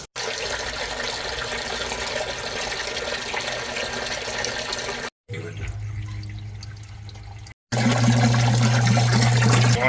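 A washing machine runs a rinse cycle with water gushing and sloshing loudly and steadily, broken by two brief gaps and then a low humming drone of filling water.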